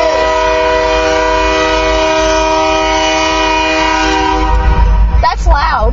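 A freight train hauled by SD40-2 locomotives roars past close by, its horn blaring in a long, loud, steady chord over rumbling wheels and clattering cars.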